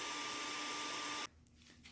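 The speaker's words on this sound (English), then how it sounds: "a hair dryer." A hair dryer blows with a loud, steady whooshing whine, then cuts off abruptly, leaving quiet room noise.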